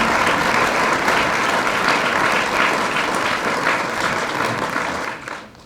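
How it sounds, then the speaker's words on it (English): Loud, steady applause from a large audience at a Central Vermont Chamber of Commerce St. Patrick's Day breakfast, honoring the staff. It holds dense and even for about five seconds before fading at the end. "please give them a round of applause"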